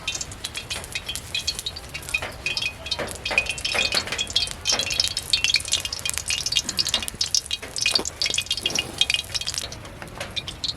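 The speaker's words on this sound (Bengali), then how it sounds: "এটা আমি হালকা তেলে, মানে হালকা গরম তেলেই ভেজে নেব।" Biuli dal dahi gujiya fry in lightly heated oil in a kadai with a soft, quiet crackle, broken by scattered clinks and scrapes of a utensil against the pan.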